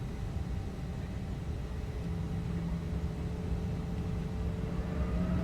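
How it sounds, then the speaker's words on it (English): Embraer E190 jet engines spooling up on the takeoff roll in X-Plane 11, a steady loud roar with a rising whine building over the seconds, no voices. "Now that we're lined up here, start our takeoff roll."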